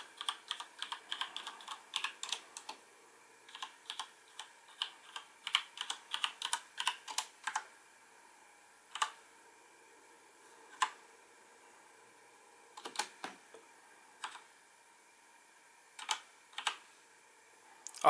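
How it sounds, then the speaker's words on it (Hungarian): Typing on a Cooler Master MasterKeys Pro M White mechanical keyboard with MX switches: crisp clicky keystrokes, close up, come in quick bursts and then in sparse single presses, with quiet gaps and no talking. "És hát végig lehet tesztelni az összes billentyűt a billentyűzeten."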